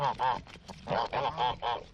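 Geese honk in a rapid series of loud, nasal calls, about six bursts in under two seconds, close by with brief gaps between them.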